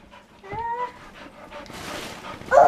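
A pet dog playing tug with a rope, giving short whimpers and yips with some panting at a moderate distance amid household noise.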